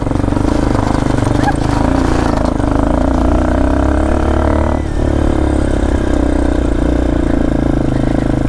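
A motorcycle engine labours steadily up a steep village road, a loud close continuous drone with a brief dip partway, while a rider talks over it.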